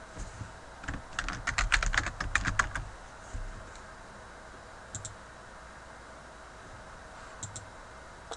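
Keys are typed and clicked on a laptop to run a macro: a dense, close burst of rapid keystrokes over about two seconds, then quiet with a few isolated clicks spaced out afterward.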